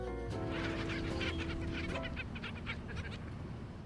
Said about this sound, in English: What kind of birds are those?